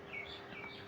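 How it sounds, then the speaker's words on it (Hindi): Somewhere in the distance an Asian koel calls, its faint, thin chirps rising twice above a steady low hum indoors. "उधर से कोयल की आवाज़ आ रही है"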